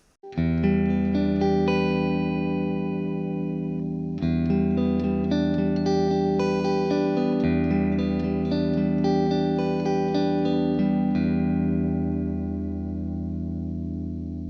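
Electric guitar chords through a concert-hall reverb preset ring out with a wide, spacious reverb tail, sustained notes blooming and overlapping at steady volume, no voices.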